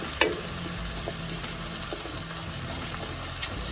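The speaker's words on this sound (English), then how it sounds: "I'm going to go ahead on and stick all of these mushrooms in here" Mushrooms hit a hot pot on a camping stove over high heat, giving a steady, close sizzle with occasional stirring clicks and crackles throughout.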